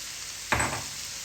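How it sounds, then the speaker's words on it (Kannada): Raw cluster beans dropped into a hot pan, a single sudden sizzle that swells and then settles into a soft steady hiss. "ಒಂಚೂರು ಹಸಿ ವಾಸನೆ ಹೋಗೋವರೆಗೂ ಗೋರಿಕಾಯ್ದು ಹುರ್ಕೋತಾ"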